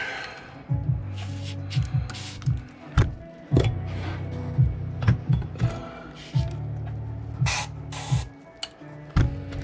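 An airbrush fires in short repeated bursts of hissy spray, each a second or so apart and fairly close, with a soft steady hum underneath between bursts.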